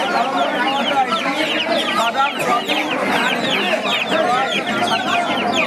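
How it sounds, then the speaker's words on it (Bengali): Fighter chickens clucking continuously and close by, with dense overlapping calls filling the whole stretch. "এটা হচ্ছে ফাইটার মুরগি, তাই তো?"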